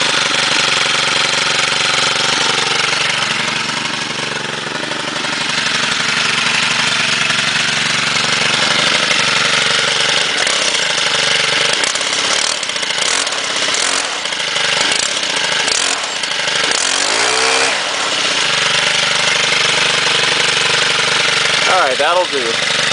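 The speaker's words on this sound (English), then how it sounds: "hope you enjoy this small video of the engines" STIHL chainsaw engines running after a cold start, a continuous close buzzing idle with a few revs and fluctuations, and a person speaking over it.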